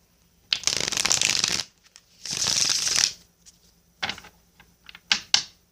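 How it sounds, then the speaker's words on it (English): Someone shuffles a deck of tarot cards close by, several bursts of riffling and rustling, two long ones then shorter quick snaps, separated by near silence. "I'm shuffling my deck for you now"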